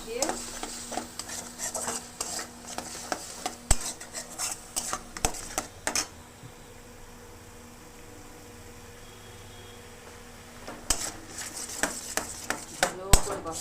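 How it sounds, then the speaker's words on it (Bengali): Masala spices for chana masala are stirred and fried in a pan, a spoon scraping and clinking against the metal over a soft sizzle, pausing for a few quiet seconds before the stirring starts again. "এবার মশলাটাকে ভালো করে কষাতে হবে"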